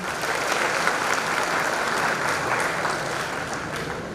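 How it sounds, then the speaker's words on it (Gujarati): Loud, sustained audience applause at a student felicitation and award ceremony, a dense steady clatter of many hands clapping without a break. "તો બધાને તાળીઓના ગડગડાટ સાથે વધાવી લઈએ"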